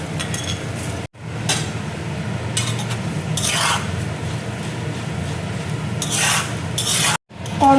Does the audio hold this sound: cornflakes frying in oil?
yes